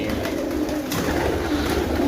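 A pigeon coos softly and steadily at close range, a low murmuring call with no voices.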